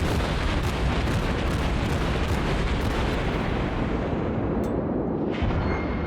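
A warship's main guns fire a broadside in the naval combat game World of Warships, a loud sustained roar of heavy artillery blasts and rumbling explosions that fills the whole stretch without pause.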